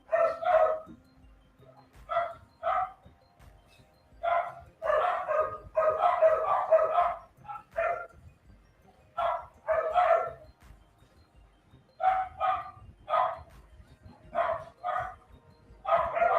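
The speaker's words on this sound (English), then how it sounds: "Can you guys hear the dogs?" Several dogs bark in repeated bursts at feeding time, fairly close, with short pauses between volleys and no talking.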